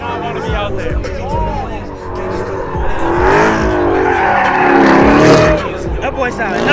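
A Dodge Charger Hellcat drifting, its engine revving hard and its tires squealing in long, wavering howls that rise and fall, loud and close, with crowd voices underneath.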